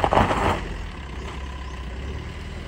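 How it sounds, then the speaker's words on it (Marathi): A heavy vehicle with an air brake pulls up near the fish market in Malvan, a brief louder burst at the start settling into a low idling rumble. "आता आमची गाडी आली बघा."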